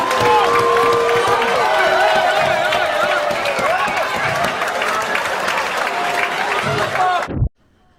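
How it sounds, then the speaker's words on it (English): A comedy club audience bursts into loud, sustained applause and cheering after a joke, dense clapping and whoops filling the room for about seven seconds before cutting off abruptly. "he got a pretty big applause break for that joke"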